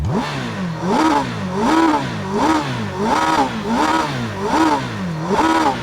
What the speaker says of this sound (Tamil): இருங்க ரெவ் பண்ணுறேன்